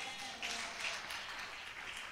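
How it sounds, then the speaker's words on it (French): A church congregation applauds during a French-language worship service, a faint, distant, steady wash of clapping that lasts throughout without any voices over it. "L'Église applaudit le Seigneur puissamment."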